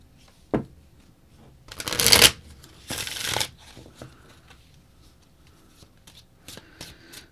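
A deck of tarot cards is shuffled close up: a sharp tap, then two loud riffling bursts, followed by softer card slides and light taps.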